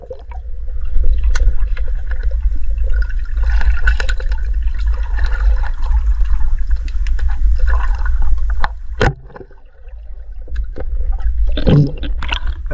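Water rushes and churns steadily at close range for most of the stretch, dips briefly, then swells again with a louder splashy surge near the end.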